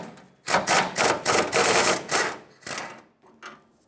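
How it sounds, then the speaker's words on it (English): A socket wrench on a 13mm rear bumper bolt of a 1996-2002 Toyota 4Runner, with loud, close rapid ratcheting in several rhythmic bursts and brief pauses, then a few lighter clicks. "Get your socket on there and remove the bolt."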